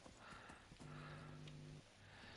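Horse hooves galloping in the Skyrim video game, a steady muffled clip-clop of hoofbeats with a low droning game tone underneath, no talk over it.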